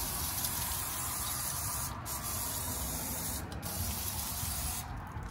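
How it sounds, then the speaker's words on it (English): Brake cleaner sprays in a continuous close hiss onto the rear drum brake of a 2014-2018 Mitsubishi Mirage, with a few momentary breaks in the flow and no voices. "I'm gonna grab some brake cleaner and I'm gonna clean this really, really good"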